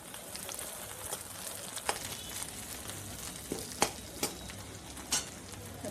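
Onions sauté in a pan for a karunai kizhangu (yam) curry, a soft continuous sizzle with occasional sharper pops and scrapes of stirring, quiet and close.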